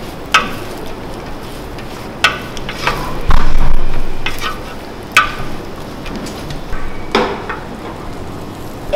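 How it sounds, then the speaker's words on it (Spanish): Chile seeds are roasted and fried for mole, giving a steady close sizzle with scattered sharp ticks and scrapes of stirring against the pan. No voices are heard. "Vamos asando y friendo por separado los ingredientes que vamos reservando."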